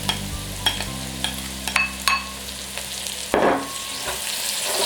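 Njanga crayfish being stirred and fried in a pot for Cameroonian garden egg stew, a soft steady sizzle broken by sharp clinks and scrapes of a spoon against the pot, close and without talk.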